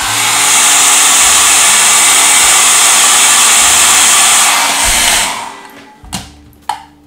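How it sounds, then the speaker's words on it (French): A hair dryer blows steadily on a decal of a 1/24 Revell Corvette C5-R model kit with a loud, continuous whoosh, then switches off, leaving a couple of faint clicks and handling sounds. "on va peut-être pouvoir figer avec le sèche-cheveux maintenant"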